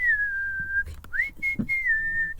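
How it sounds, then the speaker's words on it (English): A person whistles a few sustained, close notes, with short breaks and slides between the pitches. "Whistle, whistle, whistle."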